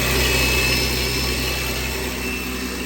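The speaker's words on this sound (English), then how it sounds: "Nice little cold start." A BMW 440i fitted with a top-mount 6466 turbo idles just after a cold start, a steady, loud mechanical drone with a constant whine and low rumble that holds at an even level throughout.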